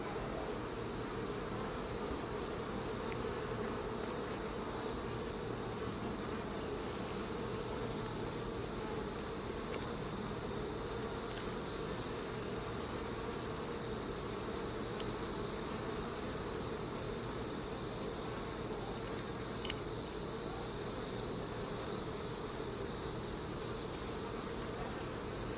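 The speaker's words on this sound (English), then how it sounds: "this hive is nicely full of bees" Bees hum around an open, well-populated beehive during a hive inspection, a dense, continuous buzz close by that stays steady throughout with no speech.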